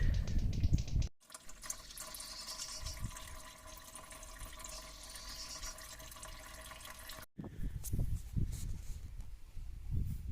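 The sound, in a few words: coolant draining from Toyota Corolla 1.4 diesel engine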